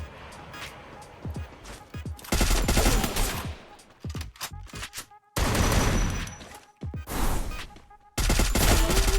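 Bursts of automatic gunfire in the mobile battle-royale game Free Fire, loud and close, rattling in several volleys with short gaps between them.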